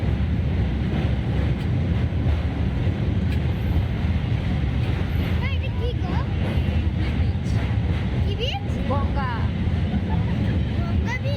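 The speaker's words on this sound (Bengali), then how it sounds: "ট্রেনে উঠে পড়েছি।" Inside the Tarama Express as it moves, a loud, constant rumble and rattle of the carriage fills the whole stretch, with a few chirpy sounds in the background.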